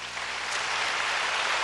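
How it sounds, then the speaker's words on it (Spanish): Steady applause from a church congregation honouring the Virgin Mary, a dense, continuous wash of many hands clapping at close range with no voices over it. "Un aplauso a la Virgen María"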